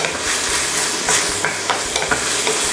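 Mashed carrot stirred into onions frying in a pan, a close, loud sizzle with soft scraping strokes of a spoon over a few seconds, no voices.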